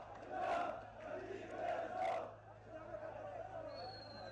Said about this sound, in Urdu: لوگ فوج اور عوام کے اتحاد کے نعرے لگا رہے ہیں